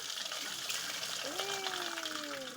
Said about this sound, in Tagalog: Bukasan ang tubig guys.